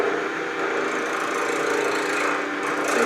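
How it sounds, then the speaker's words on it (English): A 3/8 inch C-shaped bowl gouge finishes a wooden bowl spinning on a lathe at about 1600 rpm. The cutting gives a steady, close, broadband hiss and rasp that runs unbroken the whole time with no talking. "I'm going to use this tiny 3/8 inch C-shaped bowl gouge, my kind of a finishing tool"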